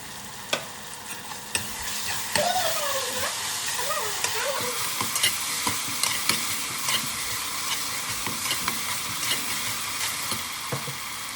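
Coriander and mint leaves sautéing with ginger-garlic paste in a pan for baby corn biryani, a steady close sizzle broken by sharp clacks of a stirring spoon and brief rustling, with no talking.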